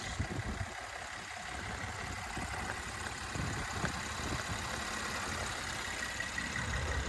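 A 2014 Mercedes E350 wagon with a 3.5-litre timing-chain V6 and no turbos idles steadily with a soft, even hum, heard alone at a moderate distance.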